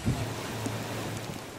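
Steady rain hisses and patters on surfaces during a storm, a dense, even wash of noise with a few brief louder drops near the start.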